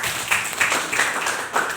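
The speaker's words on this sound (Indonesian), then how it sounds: "Tepuk tangan untuk dia." Students in a high school classroom give a short burst of scattered applause, a few seconds of quick, moderately close clapping.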